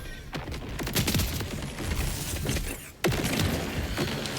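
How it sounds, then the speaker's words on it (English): Guns fire in the Borderlands 4 video game: rapid bursts of shots and booming blasts, with a sharp, loud report near the end over a continuous busy game background. "try out a few different guns here"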